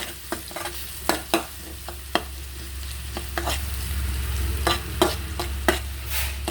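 Shallots frying in hot oil with curry leaves, a continuous close sizzle punctuated by frequent sharp scrapes and taps of a spoon stirring in the pan.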